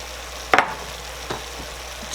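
Turkey and black bean chili gets stirred in a sizzling pot, with a sharp scrape of the spoon and a softer second stir over a quiet, steady sizzle.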